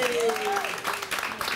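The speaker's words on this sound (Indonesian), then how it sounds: "luar biasa, kasih tepuk" Studio audience applause on an Indonesian talk show, a burst of clapping that starts with a voice at the opening and carries on steadily for over a second at moderate loudness.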